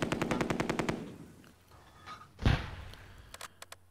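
Rapid machine gun fire in the World War II tactical game Close Combat: A Bridge Too Far, set at the Arnhem rail bridge during Operation Market Garden; a dense burst of shots opens, then a heavier blast follows, with a few scattered single reports near the end.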